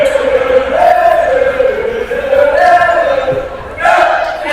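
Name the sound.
student section cheering and entertaining the crowd at volleyball game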